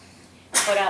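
A single sharp sneeze bursts out close by after a moment of quiet room hum.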